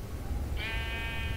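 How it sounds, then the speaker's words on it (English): A single short sheep bleat sounds out over a low, noisy background hum, brief and fairly clear. "Well, it's gonna spawn a sheep."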